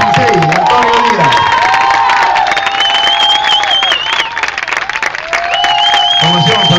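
Audience applause and cheering for karate kata champion Antonio Díaz at a peace event, loud and sustained, with whistles and shouts rising over steady clapping.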